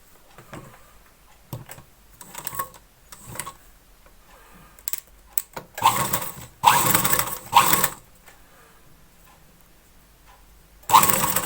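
Sewing machine stitching the folded neckline of a blouse, running in several short bursts of varying length with quiet pauses and handling noises between, ending in one more burst.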